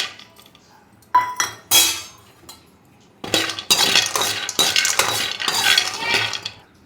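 Nuts roasting in a pan for a health mix rattle and scrape in sharp bursts as they are stirred, with brief quiet gaps between the first strokes before a longer run of continuous clattering.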